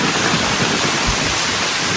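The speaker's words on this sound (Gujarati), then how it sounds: "બહુ વરસાદ આવ્યો." Heavy rain pours down as a loud, dense, continuous wash of noise with no breaks.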